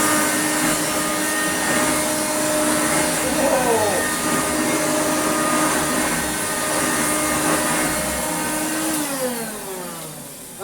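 A Hoover Turbomaster Total System U5094 upright vacuum cleaner runs steadily and loudly close by, its motor whine holding constant with a brief pitch sweep as the brush head engages, then easing slightly near the end.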